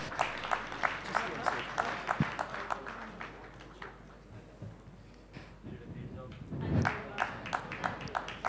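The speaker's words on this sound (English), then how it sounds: "A big round of applause, please." An audience at a panel session of a national summit applauds, a patter of clapping that fades into a lull before a brief renewed burst, fairly quiet with a voice speaking over it.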